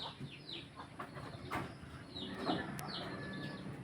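A Brahma native chicken clucks in a backyard, with soft repeated clucks and a few sharper calls at moderate distance, plus faint rustling, and no voices.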